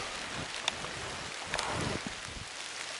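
Steady outdoor rain spatters against a camera, with a dense, constant hiss of drops, scattered sharp taps from larger blobs hitting the lens, and some wind rumble, with no voices.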